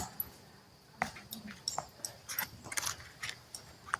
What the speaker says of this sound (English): So that was a border collie, and it actually brought the ball back.